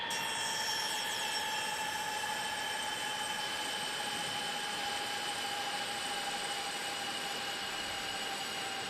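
Boeing 747-200 freighter jet engines spooling down in a flight simulator game, a continuous loud whine whose high tones slowly sag in pitch over a broad rushing roar, with no talk.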